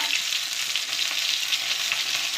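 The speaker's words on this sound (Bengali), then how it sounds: "ভেটকি মাছটা তো ভাজা হচ্ছে" Bhetki fish fries in hot oil, a loud, close, continuous crackling sizzle with no voices.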